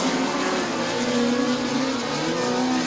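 Midget race cars roar around the track at Bubba Raceway Park, their engines blending into a loud, continuous racing drone with shifting pitch as the pack passes.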